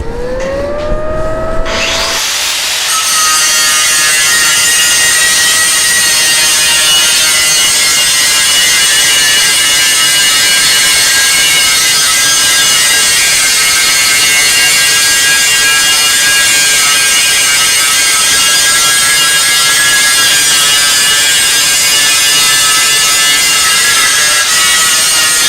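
A TYROLIT CERABOND X grinding disc works a very hard welding seam on steel plate, a loud, steady, high-pitched grinding whine that holds for the whole stretch after a brief spin-up at the start.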